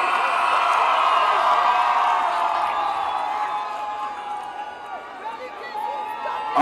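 A large crowd cheering and whooping at an outdoor PPP/C political rally in Albion, a loud sustained roar of voices that slowly fades and then swells again slightly at the end.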